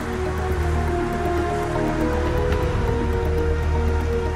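Steady rain falls over a hilly road stage of the 2004 Tour de France between Liège and Charleroi, a continuous dense patter with a low rumble beneath it, close and even throughout.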